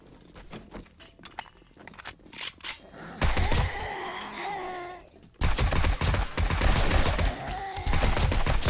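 Loud bursts of rapid automatic gunfire from the video game 7 Days to Die Alpha 21, with dense crackling volleys after a few scattered shots, pausing briefly before another long sustained stretch of firing.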